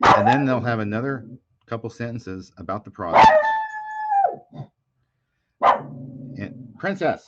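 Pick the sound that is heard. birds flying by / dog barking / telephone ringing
dog barking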